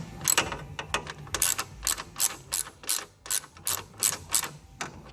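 A ratchet wrench works a 10mm bolt on a vehicle, giving repeated bursts of sharp clicking in an uneven rhythm with short pauses between strokes, close and fairly loud.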